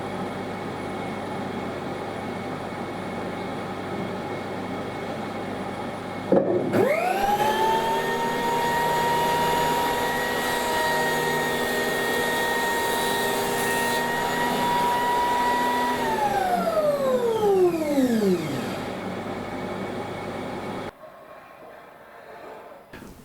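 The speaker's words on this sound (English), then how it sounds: "turn the machine on and run a test" A Carbatec benchtop jointer, model JN B150P or JN BX200P, spins up with a loud motor whine and runs steadily for about twelve seconds. It then winds down with a falling pitch, and quiet room tone follows.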